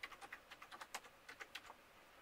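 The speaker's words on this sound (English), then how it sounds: "Obviously I'm typing it in with a wired keyboard that's in the USB port" Rapid, faint typing on a wired USB desktop keyboard, a quick irregular run of soft key clicks heard alone in a quiet room.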